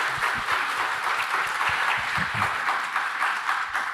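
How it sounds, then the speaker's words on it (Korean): A church audience applauds to welcome guests, with steady clapping from many hands filling the short stretch at an even loudness. "여러분 박수 한번 환영해 주시면 감사하겠습니다."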